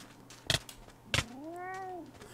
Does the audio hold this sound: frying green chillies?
no